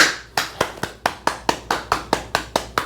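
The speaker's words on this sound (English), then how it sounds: "Clap it up." A single person clapping in a steady, even rhythm, about a dozen sharp, close claps ringing out alone with no other sound.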